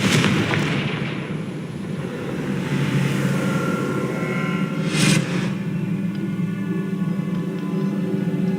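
A Confringo spell cast in the Hogwarts Legacy video game bursts with a loud explosive crack about five seconds in, rising above a steady rumbling game soundscape with a sustained drone.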